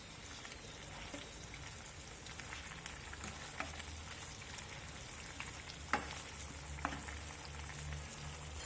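Faint, steady sizzle from a pan of Malaysian-style fish curry in soy sauce with a spoon of sugar, being stirred, with a few soft clicks of the utensil against the pan and no voices.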